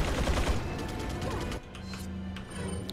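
An ally firing on enemies indoors in Resident Evil 4, a close dense burst of gunfire with mechanical clatter that cuts off partway, then quieter game ambience.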